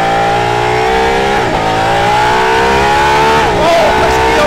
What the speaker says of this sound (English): press the ERS button and you feel the extra punch from the motor